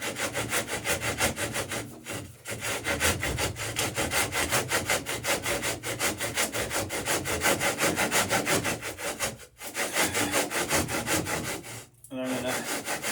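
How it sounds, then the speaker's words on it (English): A hand saw cuts at an angle through a wooden boat plank along its bevel, with rapid, rhythmic back-and-forth strokes heard up close, pausing briefly twice. "trim right up and bring the saw at the same angle that plank bevel will be at"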